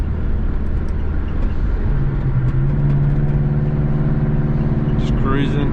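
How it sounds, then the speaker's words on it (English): A car engine cruising with its exhaust open, a steady droning hum with a deepening tone as it settles into a constant pitch, continuous and fairly loud throughout. "I see how it sounds with the exhaust open"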